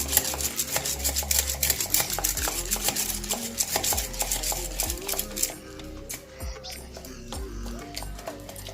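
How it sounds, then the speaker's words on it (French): Batter for brick pastry sheets is beaten by hand with a wire whisk, a fast steady clatter of rapid strokes in a bowl, with someone talking over it. "Je la fais avec le fouet d'abord."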